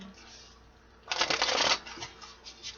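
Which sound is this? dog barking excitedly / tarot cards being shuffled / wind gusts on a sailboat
tarot cards being shuffled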